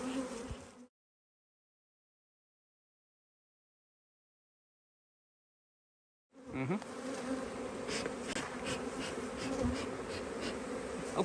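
Honey bees buzzing around open beehives, a dense continuous hum with a sudden gap of silence midway, then the swarm drone returns louder and close with sharp rustling and knocks.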